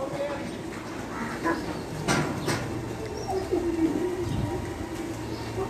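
Soft pigeon coos murmur in a steady low background, with occasional wing or shuffling noises; several birds sound close by.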